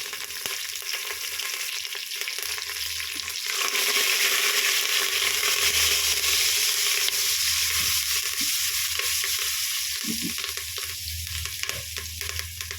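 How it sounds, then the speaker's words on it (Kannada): Curry leaves crackle and sizzle in hot oil in a pan, already seasoned with turmeric, for a broken wheat and moong dal bisi bele bath; a steady close frying hiss with a few stirring scrapes. "ಈಗ ಎಣ್ಣೆ ಕಾದಿದೆ ನೋಡಿ, ಇಷ್ಟೆಲ್ಲ ಹಾಕಿದ್ಮೇಲೆ ಕರ್ಬೇವಿನ ಸೊಪ್ಪು ಹಾಕ್ತಿದ್ದೀನಿ"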